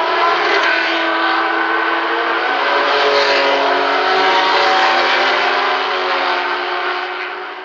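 A pack of Matra race cars rolling off on the reconnaissance lap at the 1973 Le Mans 24 Hours, a loud, dense, sustained engine roar with layered tones, no talk, fading slightly at the close.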